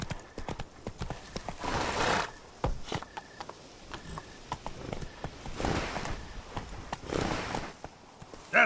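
Hooves of Roach, a horse in a video game, clip-clopping at a walk in an uneven steady rhythm, close and clear, with a couple of louder snorting breaths and no voices.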